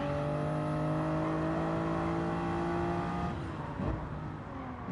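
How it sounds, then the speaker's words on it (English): Race cars on the Daytona road course in Gran Turismo 7 scream past with high, steady engine whine that bends in pitch as one passes close, then fades, with no voices. "Let's stay silent here and just listen to these cars go."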